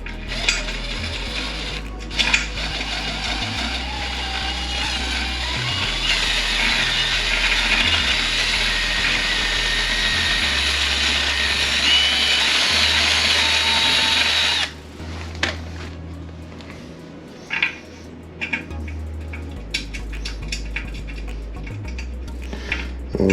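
A power drill fitted with a reamer bit grinds at buildup inside a toilet in long, loud runs of high whirring with ratcheting and gear noise, then drops to shorter, choppier bursts and intermittent clicks.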